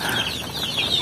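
A native chicken clucks continuously at close range on a backyard farm, a steady stream of soft, bird-like calls with no talking over it.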